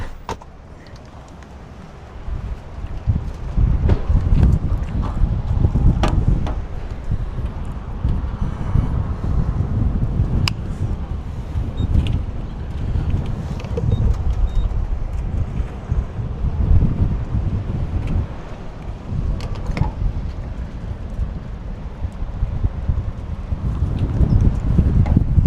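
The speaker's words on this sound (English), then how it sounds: "It's already very, very windy." Strong wind roars across open plains, buffeting the microphone in heavy rumbling gusts that build and ease over a long stretch, loud and close.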